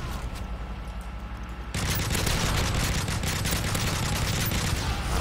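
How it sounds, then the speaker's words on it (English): An automated sentry gun fires in Modern Warfare 3 Survival Mode, first a lighter rattle and then a sudden, dense, continuous burst of rapid gunfire that stays loud to the end, with no talking. "Wow, this sentry gun is awesome."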